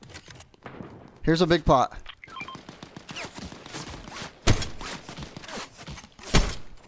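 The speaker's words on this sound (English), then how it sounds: "They're shooting. They're sniping." Sniper gunfire in Fortnite: a few sharp, isolated shots spaced seconds apart, each a loud crack with a short tail. Players talk over and between them.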